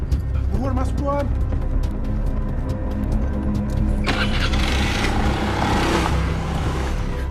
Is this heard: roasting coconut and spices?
no